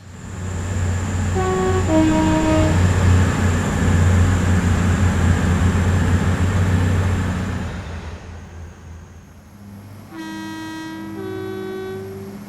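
Train rumbling and rolling along in Train Simulator Classic on the fictional Marsdenshire route, a steady loud mechanical drone with horn tones sounding near the start and again toward the end after a brief lull.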